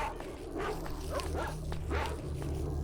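Mutant dogs in S.T.A.L.K.E.R. Shadow of Chernobyl yelp and bark in short bursts, with several snappy cries at an irregular rhythm over a steady low game background.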